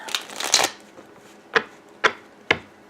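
Tarot cards riffle in a quick shuffle, followed by three sharp taps as the deck is squared, close and crisp with no talking.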